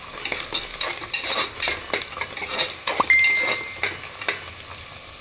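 Cashews frying in oil in a pan for a cashew mutton masala, with steady close sizzling and repeated scraping stirs of a utensil against the pan.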